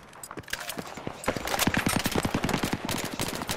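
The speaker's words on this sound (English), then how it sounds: "Being shot at." Rapid automatic gunfire in the video game Battlefield 3, a dense string of sharp shots that grows louder and faster midway and continues to the end, with more distant pops earlier.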